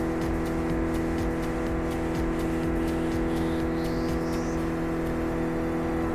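Car engine in the racing video game Project Cars 2, a steady loud drone with layered engine harmonics and a brief rising whine, continuous throughout with no talk.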